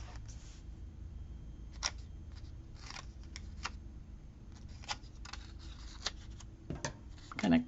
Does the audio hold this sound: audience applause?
no